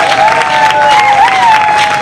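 Guests at an official civil wedding ceremony applauding after the bride's vow, a short, loud burst of clapping with a voice rising over it.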